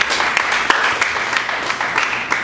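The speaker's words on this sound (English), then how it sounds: "Let's give the Lord a clap of praise." A church congregation claps in praise during a sermon, a loud, steady burst of many hands with a few sharper claps standing out close by.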